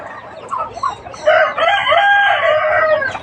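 A fighting cock crows at a farm, a long drawn-out cock-a-doodle-doo rising and falling, loud and close, with clucks from other fowl before it and no one talking.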